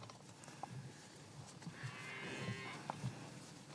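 Cattle on a French farm lowing at a distance, a low drawn-out moo rising midway over steady outdoor ambience with faint knocks.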